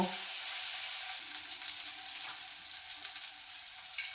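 Ginger paste dropped into onions and tomatoes frying in hot oil, giving a loud, steady hiss of sizzling close by with faint stirring scrapes underneath.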